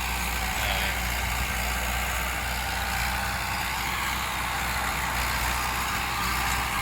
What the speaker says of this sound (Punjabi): ਚੰਗਾ ਟਰੈਕਟਰ ਦਾ ਜ਼ੋਰ ਲੱਗਦਾ ਪਿਆ